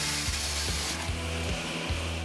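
A power drill bores holes in recycled styrofoam cabinet panels, its loud, close whine running continuously with repeated dips in pitch as the bit bears down, no voices over it.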